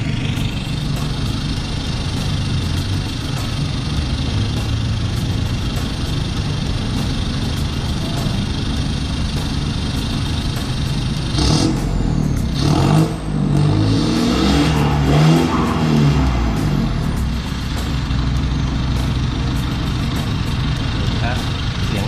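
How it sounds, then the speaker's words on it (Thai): A 2020 Isuzu D-Max four-door pickup truck engine idles with a deep, throaty exhaust rumble, then revs up in a few bursts before settling back; a voice talks over it. "นี่ฮะเสียงท่อแบบพาอๆแบบนี้เลยนะ"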